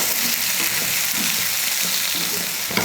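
Onions and tomatoes sauté in a pan for a chickpea kulambu, a dense, continuous sizzle with light stirring scrapes throughout, close and loud.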